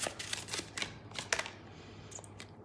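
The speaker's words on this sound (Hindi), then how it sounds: "थोड़े से और कार्ड्स दूंगी।" Tarot cards being shuffled close by, a string of quick riffling and snapping bursts that fade into quieter card handling.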